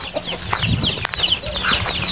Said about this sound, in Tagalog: Malaking tandang.